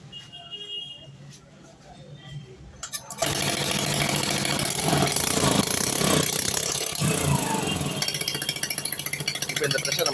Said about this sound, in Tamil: இப்போ வண்டியை வந்து நம்ம ஸ்டார்ட் பண்ணி பார்ப்போம்.